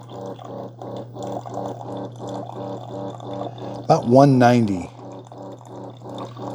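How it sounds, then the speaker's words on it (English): Hot coffee streams steadily from a Farberware Dual Brew 12-cup coffee maker, a continuous pouring trickle with a low steady hum beneath someone talking close by. "And now the coffee's coming out."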